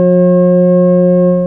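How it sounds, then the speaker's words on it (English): Two sustained pure tones, F sharp and C sharp a perfect fifth apart, sound together loud and steady, with no other sound. "They are F sharp and its perfect harmonic fifth of C sharp."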